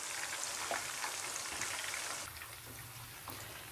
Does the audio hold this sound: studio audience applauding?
no